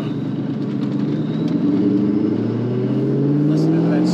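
A supercharged 2003 Ford Mustang SVT Cobra with a VMP supercharger and Bassani dual exhaust runs steadily, a rising supercharger whine layered over its low rumble, loud and close, with a voice speaking over it.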